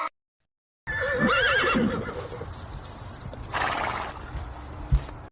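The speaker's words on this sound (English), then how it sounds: "H for horse." A horse whinnies loudly up close, a shrill wavering neigh that trails off into snorting and a few hoof clops, with no one speaking.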